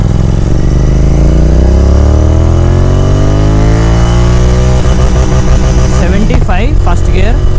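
Tuned Royal Enfield GT 650 motorcycle engine revs loudly and steadily, pitch rising through the gears, with crackling exhaust pops near the end.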